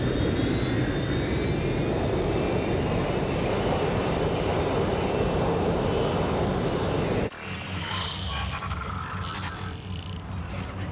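A loud, continuous jet airplane engine roars and whines steadily in Watch Dogs Legion, then abruptly cuts to a quieter, fluttering engine drone partway through.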